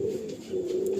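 Pigeons coo in a home loft, a steady low throaty cooing that runs through the whole moment, close and fairly loud.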